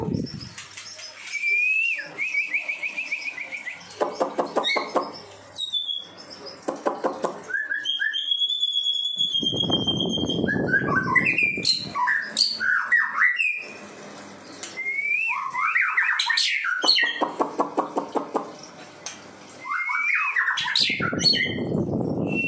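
Finches kept for breeding chirp and whistle loudly up close, with bursts of rapid squawky notes, trills and longer whistled phrases alternating with short pauses, and no one talking.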